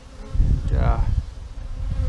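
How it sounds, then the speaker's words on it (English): A honey bee swarm buzzing steadily and close, a dense, continuous drone with no voices over it. "So we got bees, lots of bees."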